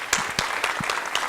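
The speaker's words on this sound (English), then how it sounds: "Round of applause, please." A small group at a real estate investors' meeting gives brief, sparse applause, a handful of separate claps close together over about a second.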